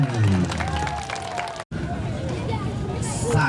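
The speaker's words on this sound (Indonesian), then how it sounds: "Kita beri tepuk tangan untuk para pemenang." Crowd applause for the winners at an Aceh song festival, a dense steady clapping that fills the room and swells near the end, with a voice speaking over it at the start.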